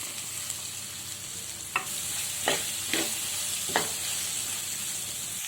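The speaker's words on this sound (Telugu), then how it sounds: "ఇప్పుడు మనం బీట్రూట్ ముక్కలు వేసుకుందాం." Beetroot pieces fry in a pan over tempered spices, a steady close sizzle with a few distinct spatula scrapes and knocks spaced a second or so apart.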